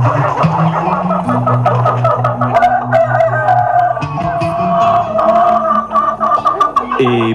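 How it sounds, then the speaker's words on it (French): Several roosters crow in long, overlapping calls, some close and some farther off, with clucking fowl in between and no talk. "on peut entendre les coqs chanter"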